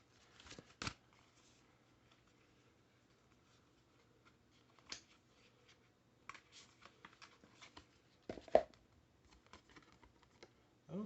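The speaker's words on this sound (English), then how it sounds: "I'm going to just shuffle these cards" Tarot cards shuffled by hand, a few sparse, quiet riffles and flutters spread out over near silence.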